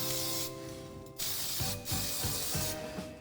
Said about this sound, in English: So you're just gonna spray this down.